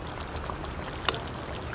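Water is added to a pot of simmering goat curry on the stove. It makes a steady splashing pour with one brief sharp clink partway through, and no voices.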